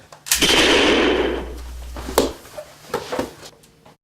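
A single loud gunshot in a TV drama scene, a sharp blast with a long booming tail, followed by fainter thumps and movement sounds.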